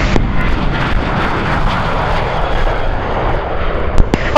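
Airliner jet engines roar steadily on the runway at Kagoshima Airport in a strong headwind, a loud continuous broadband rumble with wind buffeting the microphone.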